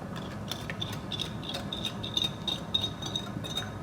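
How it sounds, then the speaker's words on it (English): Poppy seed jam mixture being whisked in a bowl gives a steady run of light, quick scraping taps close by with no talk. "I continue whisking it a little bit"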